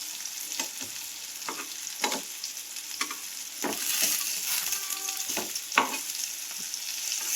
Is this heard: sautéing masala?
yes